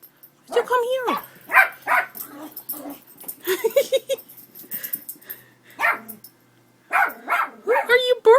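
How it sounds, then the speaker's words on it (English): A dog barks in short bursts close by, repeated several times across the clip, with someone talking to it in between. "What are you barking at, huh?"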